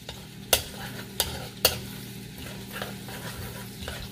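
Garlic frying in a pan as the first step of a duck curry: a low steady sizzle broken by three sharp clacks of a spatula against the pan early on, then softer stirring strokes.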